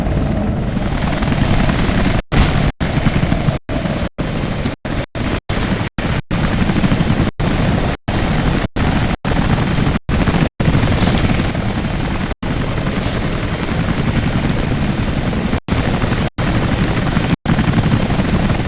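Helicopter in Rise of the Tomb Raider flying overhead, a loud, steady rotor roar held throughout with a few abrupt brief dropouts, no voices.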